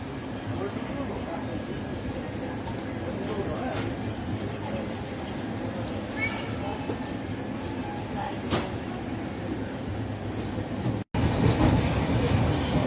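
The Kamrup Express running between Khagraghat and Azimganj stations, a continuous close rumble of wheels and carriage with faint squeals, a brief cut near the end, and someone talking over it.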